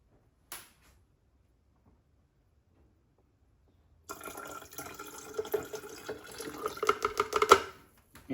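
Descaling solution is poured into the water tank of a Nespresso Creatista Plus pod coffee machine: after a brief click and silence, a steady trickling splash of liquid builds and grows louder, close up, with no talking.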